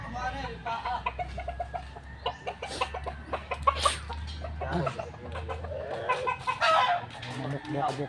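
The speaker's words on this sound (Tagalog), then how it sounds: "Manok." Chickens cluck and squawk close by in quick, irregular bursts, with a low hum and a little talking in the background.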